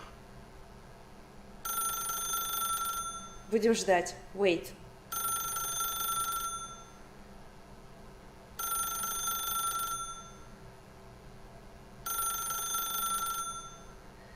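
A telephone in The Stanley Parable video game rings in four evenly spaced electronic bursts with pauses between them, and a voice speaks briefly between the first two rings.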